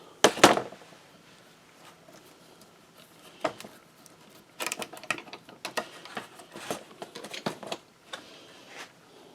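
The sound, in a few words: clamps being removed from glued resonator guitar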